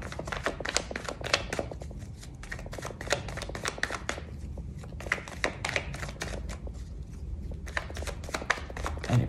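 Tarot deck being cut and shuffled by hand, a soft, close series of quick papery riffles and flicks with brief pauses between bursts, no talking.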